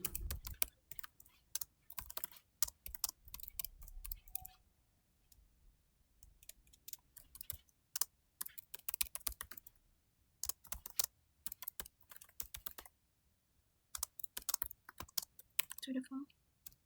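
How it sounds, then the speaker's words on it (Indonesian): Typing on a computer keyboard while composing a message in a computer-networking lab task: bursts of close, crisp key clicks with short pauses between them, alone and without talking. "Di sini kita akan ketik pesan lagi."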